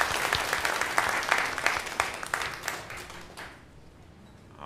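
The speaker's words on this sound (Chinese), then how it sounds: "好，我们鼓掌欢迎。" A church congregation at a Sunday service claps together in a warm, moderately loud round of applause that fades out after about three and a half seconds.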